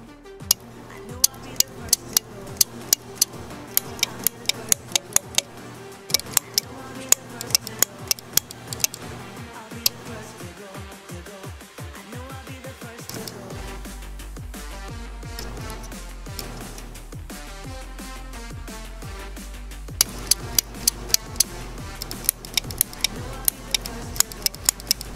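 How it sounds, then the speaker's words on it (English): Dishwasher control board relays, model MDB7000AWB, click in sharp, dry ticks, sometimes single and sometimes in quick clusters, over a quiet background during a repair. "I heard the relay click."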